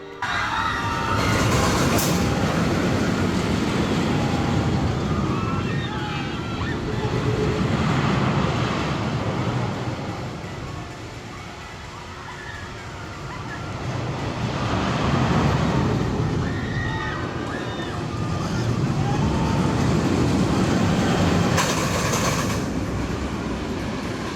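A short, simple theme park ride in Japan rumbles along its track, heard from the front seat as a loud continuous roar that swells and eases in waves, with sharp squeals and screams rising above it.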